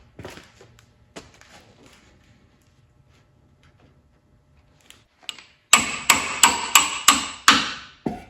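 Hammer tapping a part into place on a pickup truck during a rear suspension drop, five or six sharp metallic strikes in quick succession after a quiet stretch of faint handling noises.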